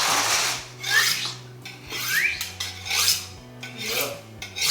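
A knife blade drawn repeatedly along a honing steel, giving bright rasping scrapes in an even back-and-forth rhythm, close and fairly loud, with no talking.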